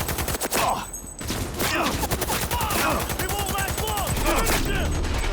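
Rapid sustained automatic fire from a light machine gun in the Cyberpunk 2077 video game, a dense, close volley of rattling shots running almost continuously with brief pauses, with a few faint voices underneath.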